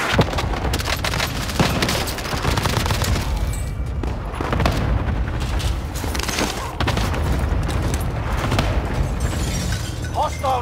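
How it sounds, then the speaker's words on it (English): Cluster strike airstrike in Warzone Pacific: dense, continuous barrage of booming explosions and crackling blasts, loud and sustained with rapid overlapping impacts throughout. "Cluster strike is active."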